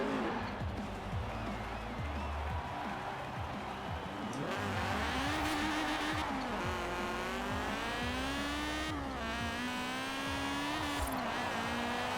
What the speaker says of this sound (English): Obviously when I'm turning it immediately turns into just wheel spin, all straight line wheel spin.